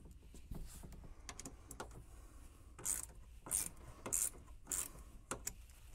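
Screws being tightened down on a TV wall mount with washers, a few short ratcheting, rasping bursts close by, separated by quiet pauses.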